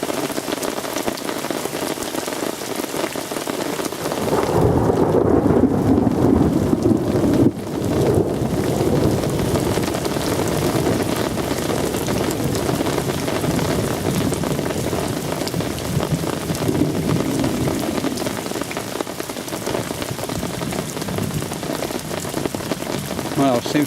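Heavy rain drums steadily beside the River Swale, with a deep thunder rumble from close lightning rising after a few seconds and lingering beneath the downpour.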